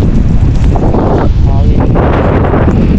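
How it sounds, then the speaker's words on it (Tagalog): Strong wind on a mountain peak, Mt. Naupa in Naga, Cebu, roars and buffets the microphone throughout, a loud, steady rush with a faint voice partly buried beneath it. "Mas pala yung hangin dito."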